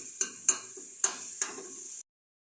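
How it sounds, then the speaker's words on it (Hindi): Ginger garlic paste fries in two tablespoons of hot oil for beef yakhni pulao, giving a steady bright sizzle broken by a few sharp spoon clicks against the pan before it cuts off abruptly. "ये इसके अंदर ऐड करेंगे और उसको अच्छी तरह से फ्राई करेंगे"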